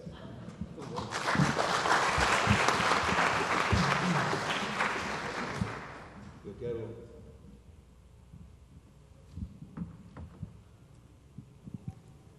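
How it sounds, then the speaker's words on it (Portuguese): A dense, loud burst of audience applause fills a hall for about six seconds after a teacher's farewell remarks, then fades into scattered claps, shuffling and room noise. "Quero de coração agradecer esses aplausos"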